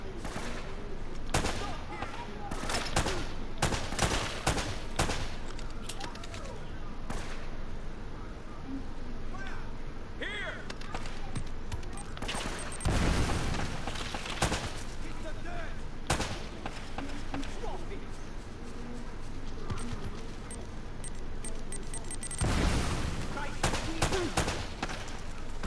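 Scattered gunfire in Uncharted, with sharp loud shots and short bursts spread irregularly over a busy game background, some spaced apart and others clustered, with a voice talking at times.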